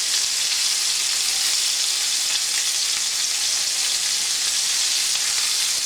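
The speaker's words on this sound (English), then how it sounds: "let's see what kind of a sear we got here" Beef seared in a hot pan sizzles steadily and loudly, a dense, continuous frying hiss with no pauses, heard up close with no one talking.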